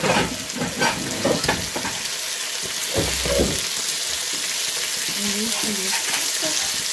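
Food searing in a hot pan for a rare, quick cook, with a steady loud sizzle and a few clinks and scrapes of a utensil, close by and without speech.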